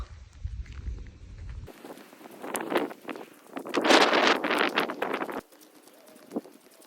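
Strong gusting wind buffets the microphone at a hilltop viewpoint near a dam in Thailand, swelling loud in the middle with rustling, then dropping to a quieter breeze.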